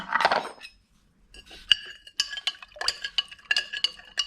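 Root-boosting fertilizer solution is stirred in a container, giving a rustle of powder followed by a run of sharp clinks and taps of a spoon against the vessel, close and fairly loud.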